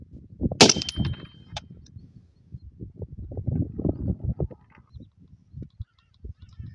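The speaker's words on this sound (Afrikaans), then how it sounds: "Kom ons vat nog 'n skoot." A single sharp rifle shot fired while zeroing a Hikmicro Thunder 2.0 thermal scope, loud and close at the start, followed by low rumbling handling noise and outdoor background.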